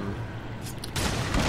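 Gunfire from an alien-looking weapon in Darksiders 2, a steady burst of shots growing louder and denser partway through, with no voices.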